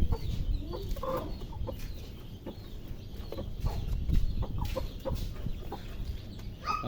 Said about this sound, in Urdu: ہم مرغی کو لے کے آ رہے ہیں.